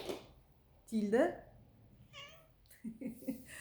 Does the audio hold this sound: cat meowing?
yes